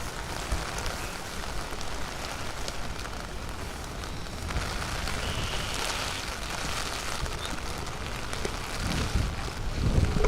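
Steady rain falls on a sports field with a new Astro turf pitch during a U16 boys' game, a dense continuous hiss of drops with no breaks, broad and moderately loud, carrying no talk.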